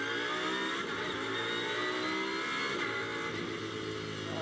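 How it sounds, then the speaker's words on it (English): An onboard GT race car accelerates onto the Brands Hatch circuit in qualifying for the Fanatec GT World Challenge, with a loud, sustained engine note rising steadily through the revs. "checks all the dials, and accelerates now onto the circuit"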